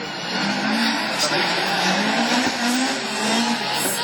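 A rallycross car in a French championship Division 4 heat at Mayenne tears through the joker lap at speed, its engine note rising and falling in loud continuous revs with sliding tyre noise, while a commentator talks excitedly over it.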